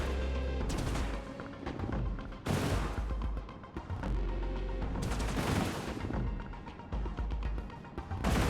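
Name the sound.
gunfire from enemies shooting in Industries of Titan video game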